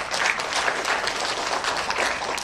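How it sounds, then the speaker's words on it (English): Audience applause at a high school English speech contest welcoming 31 finalists, a dense, steady wash of clapping from many hands lasting throughout without a break. "Give applause"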